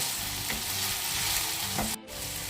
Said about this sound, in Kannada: ಹುರಿದಿಟ್ಕೊಂಡಿರೋ ಅಂಥ ಹಾಗಲಕಾಯಿನ ಇದನ್ನು ಕೂಡ ಚೆನ್ನಾಗಿ ಹುರ್ಕೊಳ್ಳಿ